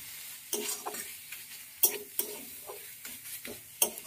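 Red amaranth leaves fry gently in a pan over a low gas flame, a soft continuous sizzle broken by repeated sharp scraping stirs at irregular intervals, close and clear.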